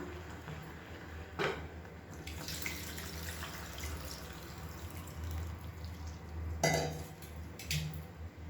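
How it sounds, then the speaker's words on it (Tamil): Tamarind water is poured into a simmering Tamil kulambu gravy: a soft, steady trickle with two brief louder splashes, quiet overall, no speech. "இப்போ வந்து புளி தண்ணி வந்து சேர்த்துக்கலாம்."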